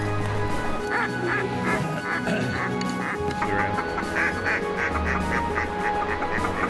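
Ducks on the Potomac River during a duck hunt, with rapid repeated quacking and honking calls layered over each other throughout, close and lively against a busy outdoor background.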